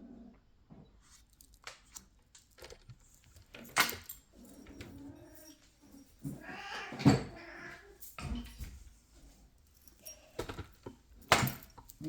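A pet cat getting into mischief indoors, knocking objects around: scattered clatters, taps and clunks at irregular intervals, close by, with quiet gaps between.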